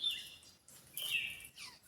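Birds in a forest give high, thin chirps and short whistled calls in quick bursts, faint to moderate, with no voices over them.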